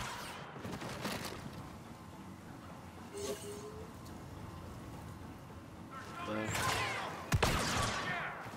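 Star Wars Battlefront 2 gunfire, heard as scattered blaster shots with a loud burst near the end over a busy rumbling battle ambience, while a voice talks over the action.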